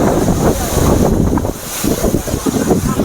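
Agaya Gangai waterfall in the Kolli Hills gives a loud, close roar of rushing water, with gusts buffeting the microphone and a brief lull midway before the rush surges back.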